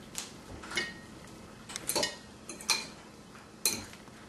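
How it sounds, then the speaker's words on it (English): A spoon stirs tater tots into a meat and milk casserole, with several light clinks and scrapes against the dish spaced irregularly and quietly. "Give them a little stir."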